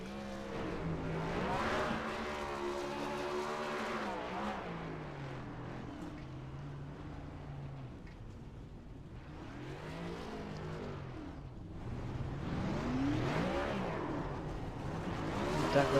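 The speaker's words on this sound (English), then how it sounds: "so we're going to just watch the victory burnouts here" Race cars doing victory burnouts at Daytona, with engines revving and wailing up and down at a distance, tires screeching and the roar rising and fading across the scene.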